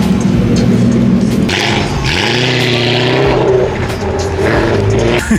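Engine of a Nissan R35 GTR revs loudly up close, rising and falling in pitch through a few sharp throttle blips over a steady rumbling idle.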